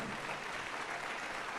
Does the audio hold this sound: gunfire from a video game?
no